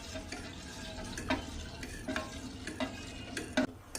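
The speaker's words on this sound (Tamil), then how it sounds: "கொதிக்கிற மட்டும் நல்லா கைவிடாமல் இலக்கி கொடுங்க" Urad dal milk (ulundu paal) is stirred in a pot while it boils, with soft scraping strokes and light taps of the spoon against the pan recurring at a steady rhythm over a quiet bubbling hiss.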